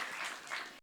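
Applause from an audience at a cultural lecture event honoring a professor, a dense wash of clapping that holds steady for under a second before cutting off abruptly.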